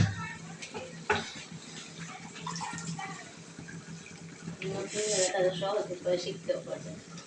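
Spinach being tipped into a hot pan with prawns and stirred, heard as wet sizzling, clattering and spatula scrapes under a person talking throughout, with one sharper knock early on.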